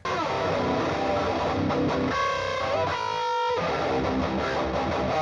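A distorted electric guitar plays gritty chords and sustained notes through an Orange 2x12 speaker cabinet, dense and continuous, with no voices.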